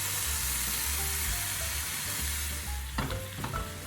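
Ground beef browning in a pan with pre-made sauce gives a steady, loud sizzle and hiss throughout, with a few stirring scrapes near the end and no talking.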